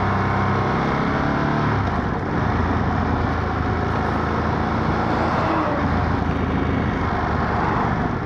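Traffic noise surrounds a rider on a Ducati V2S motorcycle stuck in a traffic jam. A broad, continuous engine and road rumble fills the scene at steady loudness, with no talking.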